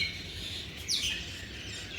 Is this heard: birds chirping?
yes